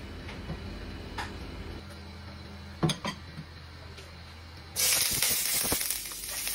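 Oil goes into a hot pan for frying fish: a few faint clicks and clatters, then a sudden loud hiss of sizzling that holds and slowly eases off.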